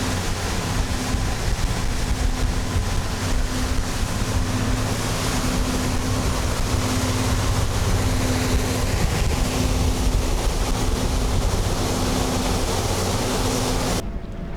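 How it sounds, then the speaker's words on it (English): A 2021 Azimut 66 yacht cruises at about 26-27 knots, giving a loud, unbroken rush of water and wind over a low engine drone that cuts off abruptly at the end. "We are running now at her normal cruising speed, which is about 26-27 knots"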